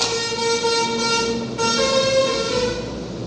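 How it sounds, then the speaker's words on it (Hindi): A truck passing outside sounds a loud, sustained horn blast, a steady droning tone over engine rumble that holds for a few seconds, with no talking. "आपको गाड़ी की आवाज़ आई क्या अभी? हॉर्न की? ओके, और ट्रक गया अभी"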